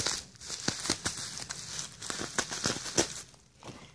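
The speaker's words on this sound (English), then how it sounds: "we're going to go ahead and cut this bubble wrap" Scissors snip through bubble wrap, giving a continuous crinkling rustle of plastic punctuated by sharp clicks and snaps, close up and moderately loud.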